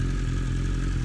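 Superbike engine idling steadily and loud as the rider brings the motorcycle to a stop, a continuous low mechanical rumble with no speech over it.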